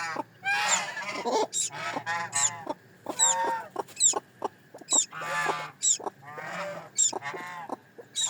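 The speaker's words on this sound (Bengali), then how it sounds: "কোয়েল পাখির বাচ্চা ফুটলে কি এমন ডাকে আমার আসলে জানা ছিল না" Newly hatched quail chicks calling loudly and continuously, high-pitched cheeps and chirps overlapping in dense bursts close by, with no talk.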